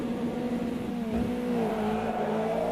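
Race cars start a race in a historic touring car sim racing game, several engines droning and rising in pitch together as they accelerate off the line, a continuous loud layered hum.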